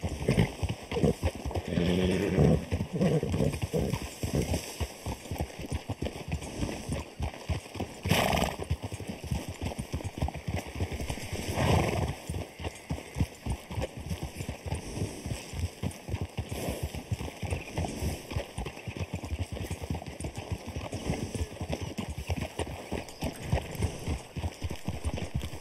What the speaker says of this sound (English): I got a fast horse.